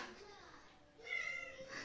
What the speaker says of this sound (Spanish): Mira mi gata. Mira, no me maulles